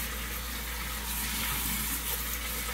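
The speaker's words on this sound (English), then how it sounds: "Rinse my hands off." A steady broadband rush of hot tap water runs continuously while hands are rinsed under it in a kitchen sink, close and fairly loud, with no talking.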